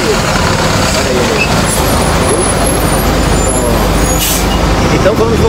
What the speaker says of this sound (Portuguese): Assim tem que ônibus passar, porque o barulho é grande.